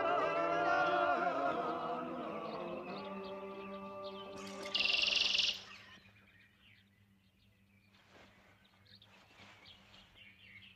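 Blackbird calling outdoors in a Georgian rural drama setting, a run of sharp chirps and song notes sounding fairly close, with a brief bright burst midway, then quieter scattered calls over a low steady hum.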